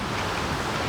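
A water hose wand sprays during RV maintenance, giving a dense, steady hiss of rushing water, loud and unbroken for the whole short stretch.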